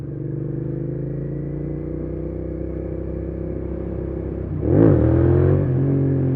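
A Suzuki SV650 motorcycle engine idles and holds a steady, loud drone close by, then surges in a sharp rev as the rider pops a wheelie before settling back, with no talking.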